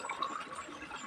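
Water runs from a tap, a short burst of gurgling, splashing flow filling a container, fairly close and steady for about a second.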